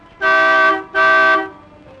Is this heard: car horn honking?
yes